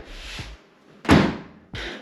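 Doors on a Nissan S15 Silvia being shut in a garage, a solid thud in the middle flanked by softer rushing bumps, close and fairly quiet.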